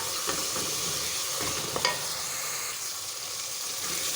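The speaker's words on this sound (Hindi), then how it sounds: "साबित मसाले एक साथ डाल दें, ये भी साथ में पकते रहेंगे। 2 मिनट भून लेते हैं इसको" Whole spices sautéing in a pan for a Sindhi arvi and chicken qeema dish, giving a soft continuous sizzle with occasional light stirring clicks and no voices.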